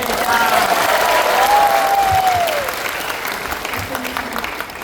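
Steady applause from an audience at a singing contest during a fruit fair in Kanchanaburi fills the whole clip, loud and even, with a brief tonal swell above it early on.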